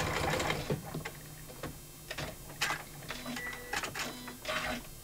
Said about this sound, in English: I'm going to remind my machine to wake up. And using just a straight stitch,